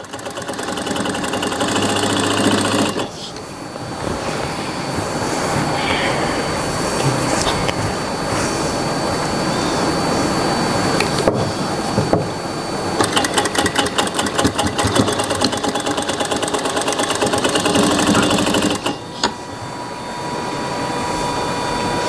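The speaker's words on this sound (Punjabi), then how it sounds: "ਪਹਿਲਾਂ ਆਪਾਂ ਨੀਚੇ ਸਲਾਈ ਲਗਾ ਲਈ" Sewing machine stitching piping onto a Punjabi suit, a steady close mechanical whir running almost nonstop with faster rhythmic stitching stretches, and no one talking over it.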